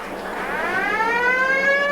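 A loud, sustained siren at an Australian football ground during a 1992 NTFA A Grade grand final, a single rising tone that swells steadily with no talking over it.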